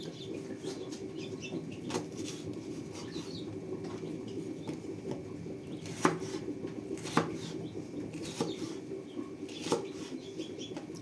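A knife chopping Napa cabbage and pepper on a cutting board, with irregular crisp taps about once a second over a steady background hiss.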